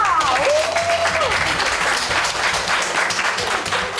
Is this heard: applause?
yes